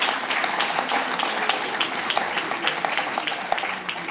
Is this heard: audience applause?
yes